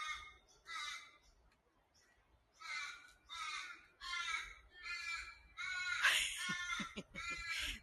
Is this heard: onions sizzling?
no